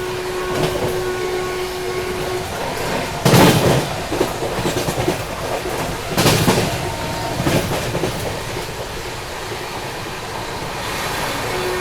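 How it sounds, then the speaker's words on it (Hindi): The Muzaffarpur–Charlapalli Amrit Bharat Express runs past on rails with a loud, steady rumble. Wheels clatter over the rail joints in repeated clickety-clack bursts, and there is no talk. "एकदम धूल उड़ाते हुए भाग रही है अपनी ट्रेन।"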